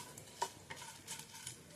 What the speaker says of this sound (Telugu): పోపు మొత్తం దోరగా వేగాలండి.